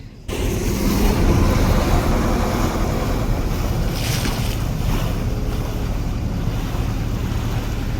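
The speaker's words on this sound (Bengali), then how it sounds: "সকাল সকাল আমরা লঞ্চ ছেড়েছি।" A launch chugs across the water in the Sundarbans, its engine droning loudly and continuously amid rushing water and wind buffeting the microphone.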